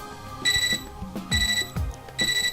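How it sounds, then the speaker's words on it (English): Three evenly spaced bursts of electronic beeping from a computer terminal in a video game, each a rapid high-pitched trill, with low thuds and murmuring in between. "I'm startled out of my silent contempt by beeping from my computer terminal"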